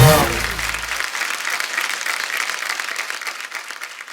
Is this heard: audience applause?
yes